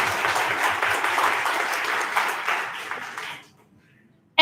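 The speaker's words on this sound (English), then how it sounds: "We could clap for them." Crowd applause at a high school ninth-grade orientation, steady and fairly loud for about three and a half seconds before cutting off into near silence.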